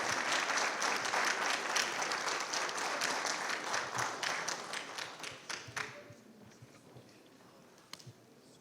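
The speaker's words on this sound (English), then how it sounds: "please give our panelists a round of applause for a wonderful conversation" Dinner audience applauds the panelists at a community unity dinner, a loud room-filling round of clapping that thins into scattered individual claps and fades out over several seconds.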